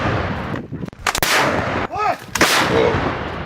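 Artillery cannon firing in wartime Ukraine: several powerful, close booms with sharp onsets and long rumbling tails, one shot followed by a rising whine, loud and dominating the scene.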